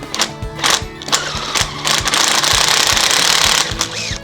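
A power drill with a 6 mm step bit whines and chatters loudly in short bursts, then bores steadily for a couple of seconds before winding down, drilling a hole while fitting accessories to a Yamaha YB125SP motorcycle.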